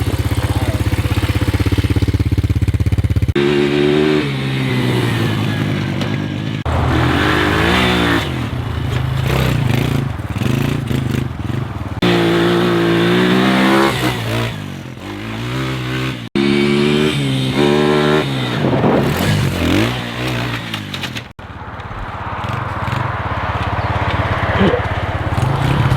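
A kids' quad bike fitted with a swapped-in motor on its stock exhaust revs up close and loud in repeated bursts, the engine pitch climbing and falling several times with brief cut-offs between pulls.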